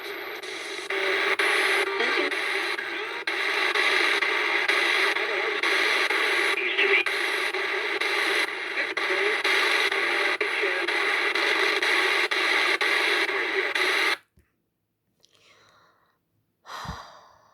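Dense, steady spirit box radio static hisses loudly for about fourteen seconds, then cuts off abruptly, leaving near silence with a couple of faint brief noises.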